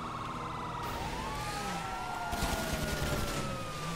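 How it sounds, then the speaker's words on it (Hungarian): A police car siren wails in the video game GTA 5, a loud, continuous up-and-down tone sweeping over a dense background of game noise and engine rumble. "mert te szirénázol"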